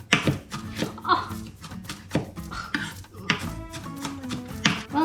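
Knife chopping tomatoes on a cutting board for tomato sauce, a quick irregular series of sharp close knocks, with a voice talking over the cutting.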